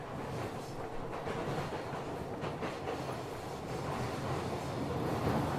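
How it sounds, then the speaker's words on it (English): Interregio Express train in a video game rolling steadily along the tracks, a continuous close rumble with rhythmic clickety-clack, no voices over it. "The rumble of the train rolling along the tracks makes a rhythmic pattern"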